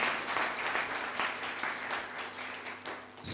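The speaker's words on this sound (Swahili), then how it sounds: "Tumpigie makofi mazuri." Steady applause from a church prayer gathering, dense and continuous clapping at moderate distance with no talk over it.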